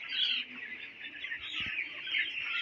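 A flock of 16-day-old broiler chicks gives a steady, dense chorus of high chirps and clucks that runs throughout, fairly close and with no talking.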